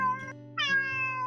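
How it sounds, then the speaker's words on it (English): A cat gives two drawn-out, plaintive meows in close succession, the second rising higher and longer, loud and near with no other sounds around. "she meowed continuously with her sad face"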